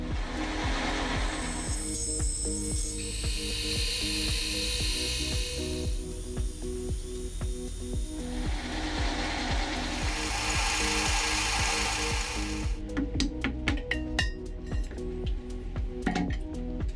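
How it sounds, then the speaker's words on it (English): A lathe in a home machine shop trims a small part for a Byzantine sundial-calendar to its final dimensions, running as a continuous steady mechanical whine and hum with shifting cutting tones and a burst of rapid clicks near the end. "The part was then mounted on the lathe and trimmed down to its final dimensions."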